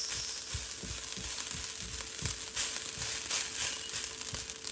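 Rice being mixed in a hot frying pan for a breakfast dish, giving a steady close sizzle with repeated scraping stir strokes, no voices.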